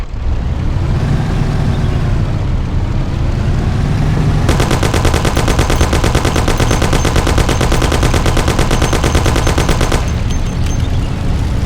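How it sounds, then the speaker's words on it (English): In the video game Mafia, a Thompson submachine gun fires a long, rapid, loud burst over a rumbling car engine, starting after a few seconds of engine noise and stopping abruptly near the end. "Take my Thompson. You and Sam shoot them"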